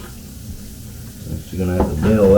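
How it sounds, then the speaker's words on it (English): Water poured from a container into a toilet bowl during toilet removal, a rising splashing gurgle building over the last second, fairly loud and close. "I'm going to try to dump water into the tank, the bowl itself,"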